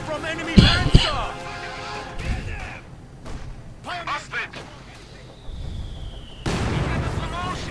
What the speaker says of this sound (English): mortar round almost right up the conscript squad there